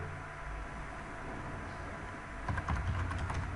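Rapid typing on a computer keyboard while Python code is written, a faint run of soft key clicks over a low background hiss, growing brisker and louder toward the end.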